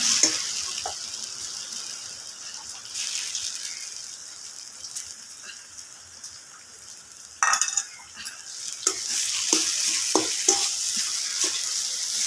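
Ground chana dal paste sizzling in a frying pan while a utensil stirs it, soft steady frying hiss with scraping strokes and sharp metallic clinks against the pan scattered throughout.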